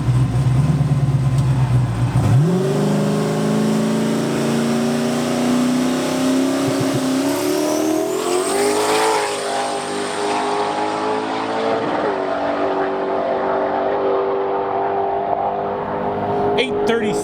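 A drag race car on a stock motor with 40 pounds of boost launches down the strip, the engine roaring loud and near, then revving higher through gear changes as it pulls away and fades.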